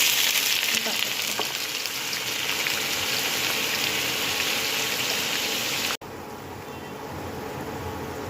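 Chopped carrots frying in ghee for gajar halwa, a steady loud sizzle throughout with a brief break near the end before the frying resumes, no talking.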